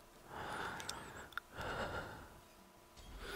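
The protagonist of a Five Nights at Freddy's 3D fan horror game breathes heavily, with two long, faint breathy swells and a small sharp click between them, quiet and close.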